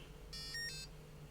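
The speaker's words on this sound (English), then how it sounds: "Beep, beep, beep. That's the buzzer going." A brief electronic beep pattern: a short burst of high, tonal bleeps lasting about half a second, fairly faint against a low background hum.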